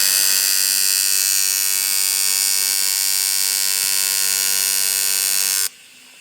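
A welder tack welding a BMW turbo oil return line at about 93 amps gives a steady, loud electric buzz-hiss that holds for over five seconds, then cuts off abruptly.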